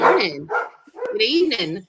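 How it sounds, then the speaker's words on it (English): Dogs bark repeatedly at close range in sharp bursts, mixed in with people talking and exchanging greetings. "Sorry about the dogs."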